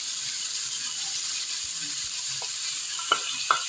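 Chopped onions sizzle in hot oil with a steady, fairly quiet hiss, broken near the end by a couple of sharp clicks from utensils.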